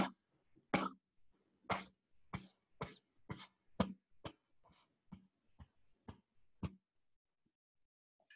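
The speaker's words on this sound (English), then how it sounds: "cover our mouth and cough" A rapid series of about a dozen short, sharp coughs, forced out after a full exhale during a breathwork exercise for lung health, close and fading toward the end.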